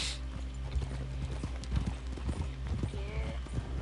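Rhythmic clip-clop of horse hooves in a PS4 game, steady and fairly close, mixed with other game noises while people talk over it.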